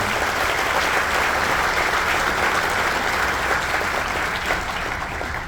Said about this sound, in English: The biggest applause that we can have for him.